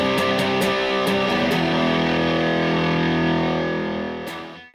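Electric guitar with Classic 57 uncovered bridge pickups played through a Rat distortion pedal, with a few picked attacks leading into a loud, thick sustained distorted chord that rings for several seconds before cutting off.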